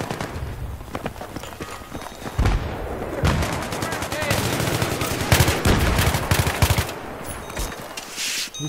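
Sustained rapid automatic fire from a KH2002 assault rifle in Battlefield 3 on Noshahr Canals, close and loud, in repeated bursts with other gunshots and battle noise mixed in.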